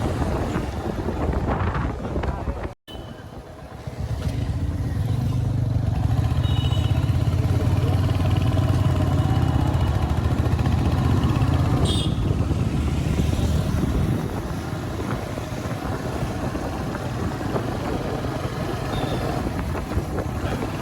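Motorcycles on a forest road near Malbazar, heard as a loud, steady engine roar with heavy wind buffeting the microphone throughout, broken by a brief drop-out early on.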